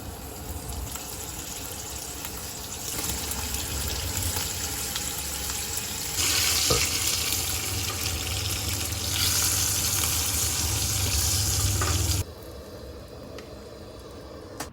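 Bacon sizzling in a pan greased with cooking spray at a riverside van campsite, a steady close crackle that swells louder midway, then drops back to a softer fry.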